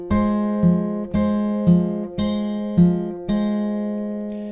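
Acoustic guitar fingerpicks a song's pattern, repeated four times in an even rhythm. Each pass opens with a bright plucked chord followed by a softer note, all ringing close and clear.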